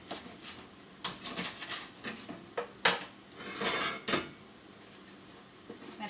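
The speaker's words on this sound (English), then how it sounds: "And I'm going to scoop all of those roast vegetables into our pots." Roast vegetables for a wheat-free roast pepper soup are scooped into a pot, giving scattered scrapes and clinks of a utensil against metal, soft and intermittent with quiet gaps between.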